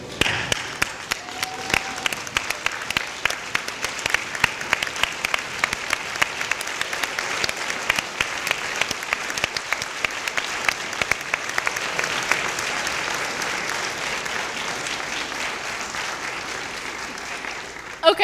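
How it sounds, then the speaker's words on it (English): A large audience at a vet school professional welcome ceremony claps steadily for about eighteen seconds. The dense applause stays full and even, and a faint voice or whistle briefly shows near the start. "give them a round of applause for supporting us all along the way"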